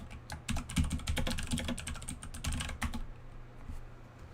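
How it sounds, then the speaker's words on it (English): Rapid, close clatter of keys on a computer keyboard, a steady burst of typing that thins out and stops near the end, with no voices. "Let me type."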